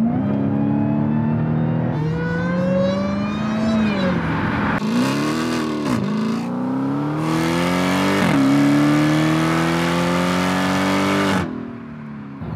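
The 2.4-liter supercharged Hemi V8 of a Dodge Hellcat revs repeatedly, loud and close, rising in pitch with each throttle blip, dropping off briefly, then climbing again in a long howling pull before settling.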